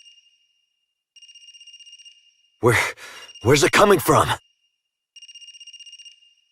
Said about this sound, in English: a phone ringing?